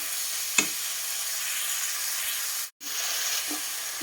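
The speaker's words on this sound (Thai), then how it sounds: "เส้นลงไปถะงอกลงไปโอ้โหผัดวุ้นเส้นดี ๆ นี่เอง" Glass noodles, bean sprouts and carrot stir-fried in a hot pan, a steady loud sizzle and hiss running throughout, broken by a single brief scrape and one short pause, with no talking.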